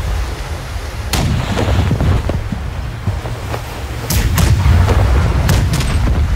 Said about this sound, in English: Here's the front cannon.